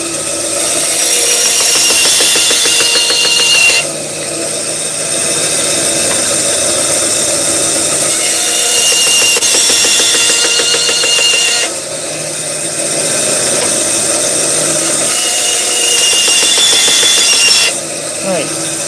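A power saw cuts through hard GRP (glass-reinforced plastic) antenna blades for a 15 m Moxon ham radio antenna, with a steady loud whine and grinding that runs in several long passes, briefly dropping between cuts.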